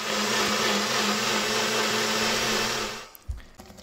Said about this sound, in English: I put that into a blender with a little bit of water and some sunflower oil,